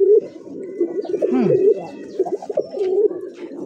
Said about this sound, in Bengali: কলসি গলা আকাশি কালার গোল্লা কবুতর, খুব সুন্দর ডাকে, দেখেন